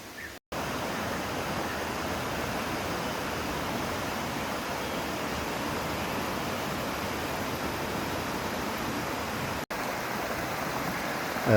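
A swollen, fast-flowing river in the Bali jungle, a steady, loud, broadband rushing roar that continues without a break, interrupted only by two brief cuts.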